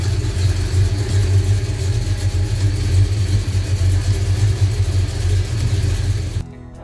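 A car engine runs steadily at idle while its automatic gearbox undergoes a closed-circuit flush cleaning, a constant low rumble with slight pulsing that cuts off abruptly near the end.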